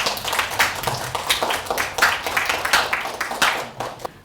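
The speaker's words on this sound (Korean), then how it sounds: "큰 박수로 모시겠습니다." Audience in a lecture hall at a literary program on digital photo poetry claps to welcome a poet lecturer, with steady, moderately loud applause and some individual sharp claps throughout.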